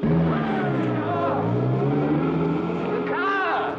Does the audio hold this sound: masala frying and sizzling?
no